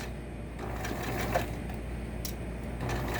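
A sewing machine stitching a zigzag pattern on fabric, running with a steady, fairly quiet mechanical whir and a few faint clicks, close by with no talking.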